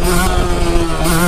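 A motorcycle fitted with supermoto wheels, its engine held under throttle in a loud, steady buzzing drone with a slight rise in pitch near the end, close by and with no voices.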